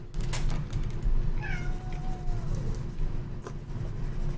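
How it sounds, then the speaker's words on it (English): Cats squabble and meow, with a single drawn-out, wavering meow rising then sliding down, heard over a steady low background hum and scattered scratchy clicks. "The cats are trying to kill each other"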